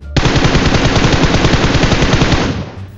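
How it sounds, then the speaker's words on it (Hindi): Rapid automatic gunfire from the battle royale video game BGMI, a loud sustained burst of machine-gun fire lasting over two seconds before cutting off, with no voices. "आगे से फिर पुलवा का दूसरा किनारा से गोली चलने का आवाज आ रहा था"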